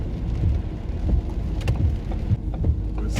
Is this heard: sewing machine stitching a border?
no